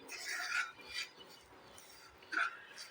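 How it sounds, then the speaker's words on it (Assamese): Coconut powder and semolina being dry-roasted and stirred in a pan for suji barfi, giving soft scraping, rasping strokes in a few bursts, close and fairly quiet, with no talking. "নাৰিকলৰ গুড়িখিনিও মই চুজিৰ লগত এইদৰে ভাজিম।"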